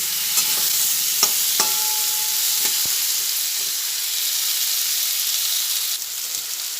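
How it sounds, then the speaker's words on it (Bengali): Thinly sliced potatoes frying in a pan with a loud, continuous hissing sizzle, punctuated by a few sharp clicks and scrapes of a stirring spoon, close up with no speech. "পরে আলুটা একসঙ্গে ভেজে নিচ্ছি আলুটা আমি একটু পাতলা পাতলা করে কেটেছি"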